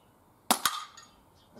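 A single sharp shot from an NTK Buster .22 calibre air pistol fired at a 10-metre target, a crisp snap followed by a quick second impact click and a short fading ring, close and fairly quiet.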